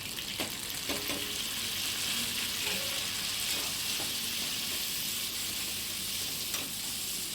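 Chopped tomatoes sauté in a pan of oil for a dried fish curry, giving a steady, fairly quiet sizzle throughout with a few soft clinks of stirring.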